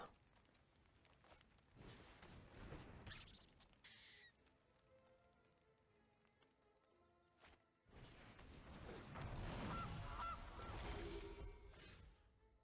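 Goose honk card sound effects in the online card game MTG Arena, with a few sharp honks and game clatter, then a louder burst of effects later, all quiet overall with no speech.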